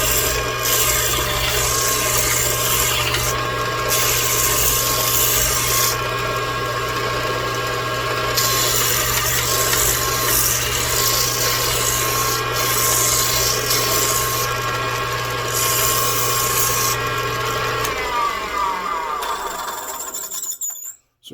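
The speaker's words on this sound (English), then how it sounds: "Actually, I think I need some new sandpaper on my belt sander here, but it worked." A belt sander with worn sandpaper rounds the front of a wooden toy tugboat's cab, a loud steady motor whine with continuous abrasive rasping that shifts in intensity as the wood is pressed on and lifted, then spins down.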